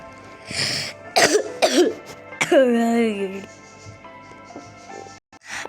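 A person coughs and clears the throat in several rough bursts, followed by a strained, drawn-out vocal sound, close to the microphone in a quiet room.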